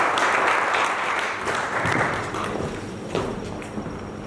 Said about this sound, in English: So please give a warm round of applause to Mr. Flexman Samuel.